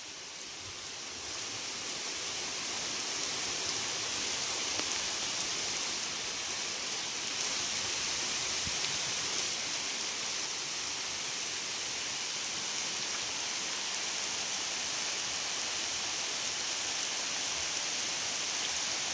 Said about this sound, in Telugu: బంతి చెట్టు మీద చూడండి వర్షం ఏ విధంగా పడుతూ ఉందో